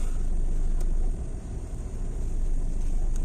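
Car driving along at night, a steady low engine and road rumble with a brief dip in loudness midway, continuous from inside the cabin.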